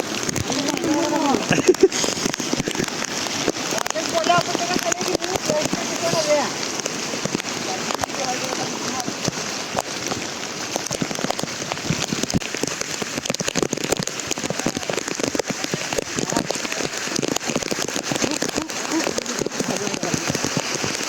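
Heavy, steady rain pours down without pause on a trekking trail between Panhala and Pawankhind, loud and close, a dense hiss with occasional heavier drops.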